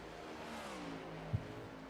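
Race cars sweep past on a track, a rising and falling engine whine with a soft thump near the end, faint and brief with no voices.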